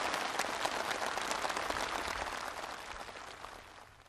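Participants applauding at a flag presentation ceremony for a student marching group in Pyongyang, a broad wash of clapping that holds steady and then slowly fades toward the end, somewhat distant and soft.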